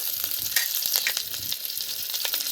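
Bay leaf and garam masala hit hot white oil and homemade ghee, crackling and sizzling loudly and steadily with bright spitting pops throughout.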